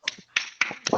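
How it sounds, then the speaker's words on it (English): Participants in an online working-group meeting applaud over their microphones, four sharp, sparse claps spread across a second, thin and close, with no talking. "please unmute and join me in a round of applause"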